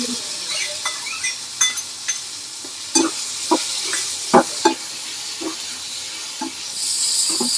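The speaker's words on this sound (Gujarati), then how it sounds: "લીમડીના પાન નાખી ટમેટાને તડતડાટી બોલાવી દઈશું" Tomatoes sizzle and crackle in a hot tempering with turmeric, hing and curry leaves for tomato chutney, with a steady frying hiss, close spoon stirs and sharp pops scattered throughout.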